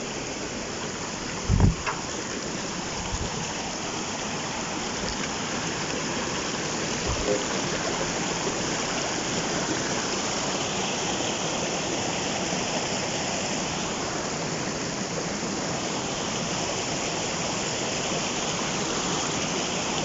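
A river flowing past a bend in a forest, a loud, steady rush of water filling the whole clip, with a couple of brief knocks near the start and no talking.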